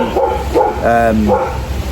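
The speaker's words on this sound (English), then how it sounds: "forgive the dogs barking" Dogs barking at home, several close, loud yaps and woofs in quick bursts with a whimpering tone, running under a voice speaking.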